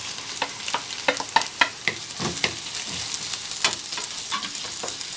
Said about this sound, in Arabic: نخليوها تشحر شويه، بعد ما تشحرت لينا البصله غادي نزيدو الصدر ديال الدجاج